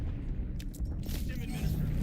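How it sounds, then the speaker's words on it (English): A frag grenade goes off in the Call of Duty Black Ops 7 video game, heard as a heavy, rumbling boom within dense battle noise, with a game voice speaking over it. "Incoming frag!"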